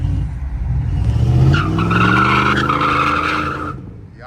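A GMC OBS pickup truck's engine revs loud and close, rising and holding with a harsh, squealing edge for several seconds before cutting off abruptly.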